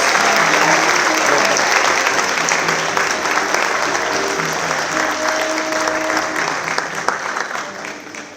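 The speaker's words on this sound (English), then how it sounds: "let's give one huge round of applause to each and every one of our Student of Distinction Award winners" A large audience at a student award ceremony applauds its Student of Distinction Award winners, a dense, sustained wash of clapping that runs loud the whole way, easing slightly toward the end, with faint voices mixed in.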